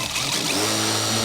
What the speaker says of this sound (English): We're gonna start drilling into this lovely power built club head